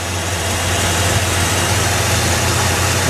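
A 1968 Buick Electra convertible's engine with a rebuilt carburetor settles into a smooth, even idle, a steady low rumble heard up close with no talk over it.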